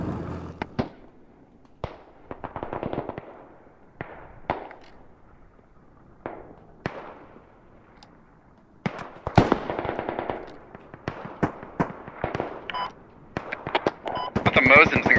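Mosin rifle shots ring out in a combat video game, sharp bursts of gunfire scattered irregularly among other battle noise, with a player talking over them.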